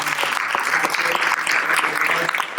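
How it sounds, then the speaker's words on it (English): Audience at a real estate development showcase panel applauding a board president, steady dense clapping throughout, fairly loud and close. "we need to give him a round of applause"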